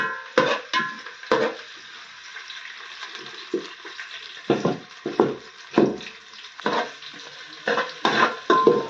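Chopped onion sautéing and being stirred in a pan over a wood-fired clay stove while home-style chicken is prepared, with repeated scraping strokes and bursts of sizzle that come in uneven clusters with pauses between them, and no voices.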